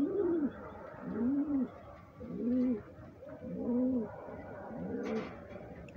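Domestic pigeons coo nearby in a steady rhythm of about five low, rolling coos, one roughly every second, with little else around.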